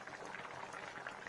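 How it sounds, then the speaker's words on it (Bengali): Cauliflower boiling in a pot, a steady, close bubbling and rolling of water that holds at an even level throughout without any voices. "দেখুন ফ্রেন্ডস, কত সুন্দর ফুটছে।"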